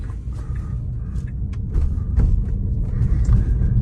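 A Tesla Model Y electric SUV pulls away and drives off, a steady low road rumble and tire noise rising slightly as it gathers speed, heard from inside the cabin with no engine note.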